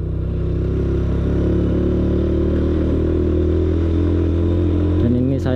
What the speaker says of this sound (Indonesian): Saya masih memakai motor Vega, motor tempur saya ini teman-teman.